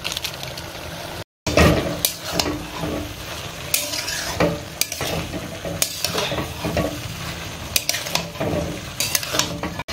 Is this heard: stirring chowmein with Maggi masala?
yes